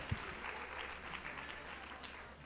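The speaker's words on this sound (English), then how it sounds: "give yourselves a round of applause" Faint, thin applause from a classroom audience during an active-learning lesson, scattered clapping spread over a couple of seconds, quiet and somewhat distant.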